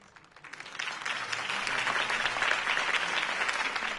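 Applause from a crowd at a campaign speech in a Telltale video game swells in after a quiet start and continues steadily, dense and fairly loud throughout.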